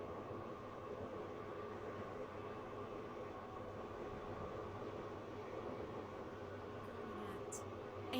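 A train runs steadily in the Stepford County Railway video game, a continuous rumbling rail noise with even wheel and motor drone throughout, and a brief higher tone near the end.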